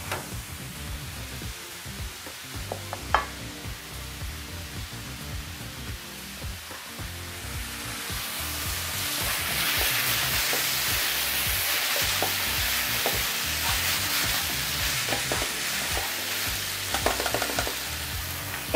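Beef tenderloin filling for crepes sizzling in a pan, a quiet hiss that swells into steady, louder frying about halfway through, with occasional light stirring clicks.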